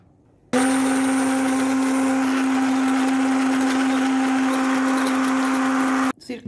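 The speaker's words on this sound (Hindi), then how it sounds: "मिर्चों को रखा हुआ था, अब हम इसको ग्राइंड कर लेते हैं।" A blender grinds soaked chillies into a spicy chilli sauce, starting abruptly and running as a loud, steady motor whine for about five and a half seconds before cutting off.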